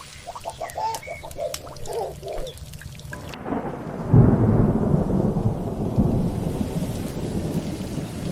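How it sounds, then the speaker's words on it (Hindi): A heavy rainstorm breaks with a loud thunder crack, then steady dense rain pours on with lingering rumble; before it, a bird calls faintly in calm air. "फिर एक दिन बारिश आई"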